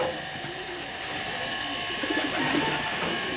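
Racing pigeons return to a loft, with soft cooing and rustling close by over a low rumble of background machinery that swells slightly toward the end.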